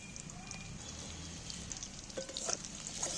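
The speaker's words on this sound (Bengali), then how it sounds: "এই মাছের তেলের মধ্যেই পেঁয়াজগুলো তুলে দিচ্ছি কাটা পেঁয়াজগুলো" Chopped onions are tipped into hot fish oil left from frying fish, giving a faint, steady sizzle and crackle with light stirring scrapes near the end.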